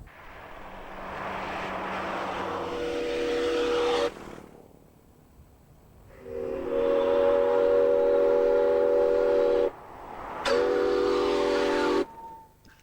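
Steam train whistle on a railway near Settle Junction, heard as three long, loud tonal blasts with pauses between them, the middle one longest, over a faint rolling train.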